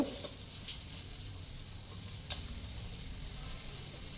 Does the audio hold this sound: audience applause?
no